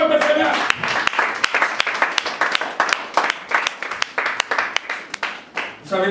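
A church congregation at a large worship conference claps for the Lord, with dense, uneven hand claps and scattered voices mixed through the applause.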